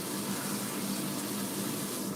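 Tap water runs steadily while a kitchen knife is rinsed of potato bits, a constant moderate hiss that holds evenly throughout, with no talking.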